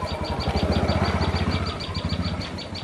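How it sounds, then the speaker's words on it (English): A passing motorcycle engine rumbles nearby with a low pulsing throb, rising then easing off, while a tailorbird keeps chirping rapidly in the background. "Sorry for the motorcycle noise."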